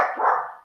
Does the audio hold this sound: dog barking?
yes